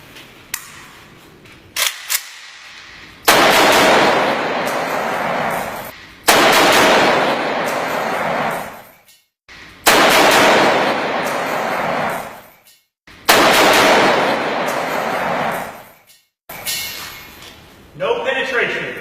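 Bursts of AK-47 rifle fire ring out in several long, loud volleys separated by short pauses, close by and sharply echoing, with speech heard between some bursts.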